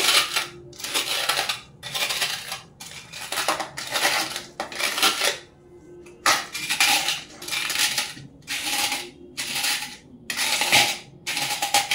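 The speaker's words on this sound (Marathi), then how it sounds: "तोपर्यंत मी हे जे डिंक घेतलेला आहे ना तो मी असा क्रश करून घेणार आहे" Edible gum (dink) for laddoos is crushed in a rhythmic series of crunching, clattering pounds, roughly a dozen bursts separated by brief pauses, fairly close and with no talking.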